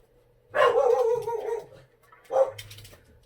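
Dogs bark nearby in two loud bursts, a long yappy volley then a shorter bark, with brief quiet between.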